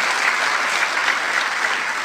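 A church congregation claps together in sustained applause, a dense, even patter that holds steady and fairly loud throughout.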